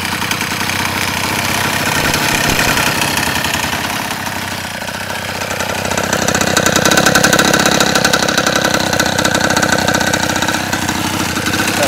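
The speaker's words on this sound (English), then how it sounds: "That's the idle speed." A 47cc gas engine on a custom Go-Ped scooter, with upgraded carburetor and modified exhaust, idles steadily and close by, a continuous buzzing rattle that swells slightly in the second half, with no talking.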